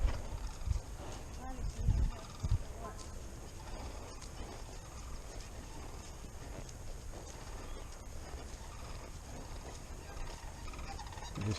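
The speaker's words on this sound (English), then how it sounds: "Crazy, funny looking birds." Turkeys on a farm gobble in scattered, rough bursts amid a busy, noisy outdoor background, with people talking and a few hoof-like knocks mixed in.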